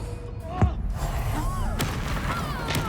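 The Bombarda blasting spell in Hogwarts Legacy goes off with a booming explosion, followed by a second, louder burst. A voice talks over the steady game background.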